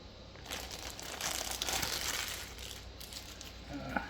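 Cardboard packaging from a NuX analog chorus pedal is handled close up, with soft crinkling and rustling for several seconds and a faint tap at the end.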